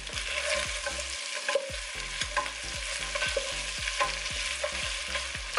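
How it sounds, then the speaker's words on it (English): Meat, onion and garlic fry together in a pan, a steady dense sizzle with repeated scrapes and stirring clatter from a utensil, close and continuous with no talking. "you're frying your meat and your onion and garlic together"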